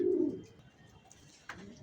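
Racing pigeons of the Johnson line coo softly, a low throaty coo at the start followed by quieter murmuring and a brief sharper sound near the end, faint and close.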